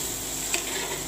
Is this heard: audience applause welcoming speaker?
no